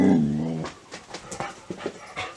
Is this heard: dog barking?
yes